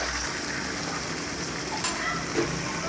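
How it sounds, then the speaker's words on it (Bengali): Marinated chicken pieces with spices fry in a pan, giving a steady close sizzle and crackle throughout, with faint stirring clinks and no voices. "এবার ম্যারিনেট করা চিকেনগুলো দিয়ে দেব দিয়ে দিয়েছি এবার ভালো করে কষিয়ে নিতে হবে যতক্ষণ না পর্যন্ত চিকেন সেদ্ধ হচ্ছে"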